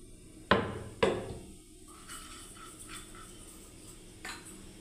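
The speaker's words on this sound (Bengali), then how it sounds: "লাউ কাটিয়ে নিচ্ছি বন্ধুরা" Knife chopping through a bottle gourd (lau) on a board for lentil dal: two sharp hard thuds close together, followed by softer scraping and a lighter knock near the end.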